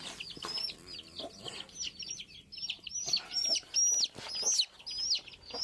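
Several caged chickens cluck and squawk nearby in a busy, uneven stream of calls, with occasional rustling and wing movement.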